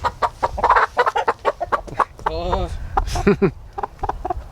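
Backyard chickens in an unfinished coop cluck and call steadily close by, a hen's drawn-out squawk rising in the middle, while people talk over the birds throughout.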